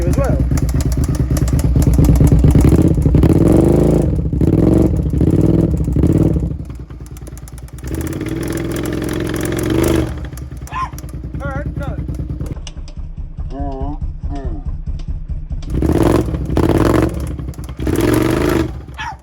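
A first-generation carbureted Suzuki SV650 motorcycle engine runs rough close by, loud, uneven and lumpy, with choppy pulses, clattering thuds and revs that rise and fall. A voice talks briefly over it partway through.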